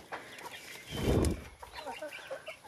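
A brooding hen clucks low and close in a short burst at a hot farm nest where many eggs have gone bad, with faint rustling and quieter bird sounds around it.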